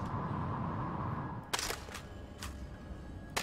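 A weapon is reloaded in the video game Prey: a handful of short, crisp mechanical clicks and snaps stand out over a steady low background hum.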